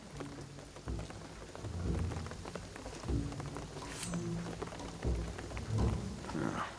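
Steady rain falls in the game Shadow of the Tomb Raider, a dense wash of drops with low rumbling swells that suggest distant thunder, continuous and moderately loud with no talk.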